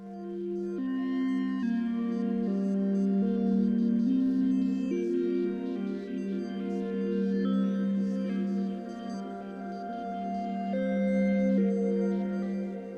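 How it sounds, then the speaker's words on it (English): A synth arpeggio from the Vital wavetable synthesizer plays a repeating pattern of three or four stepped notes, clear and sustained with a steady rhythm and no talking. "So now our ARP sounds like this."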